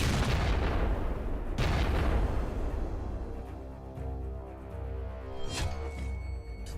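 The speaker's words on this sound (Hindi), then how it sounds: "पुतिन के फायर से ब्लैक सी में धमाके ही धमाके हो रहे हैं" Explosions at sea in the Black Sea, a rolling series of heavy booms with sharp blasts near the start and midway, followed by a lower rumbling roar and a brief crack near the end.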